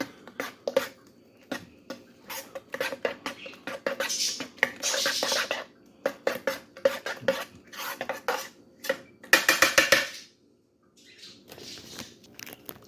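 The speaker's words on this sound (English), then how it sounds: "I'm just going to mix it in properly so that it's thoroughly absorbed." Spoon stirring dried oregano into lasagna sauce in a slow-cooker pot, heard as repeated close scraping and clinking against the pot in uneven bursts with short pauses, no talking.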